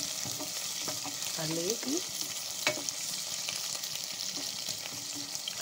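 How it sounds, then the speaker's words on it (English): Carrots fry in a pan with a soft, continuous sizzle and occasional stirring scrapes, heard close; a voice briefly speaks over it. "Now I want to add some carrots. I fry them"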